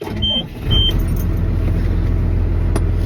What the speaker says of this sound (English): This is a municipal auction truck, and we're just gonna go for a little drive.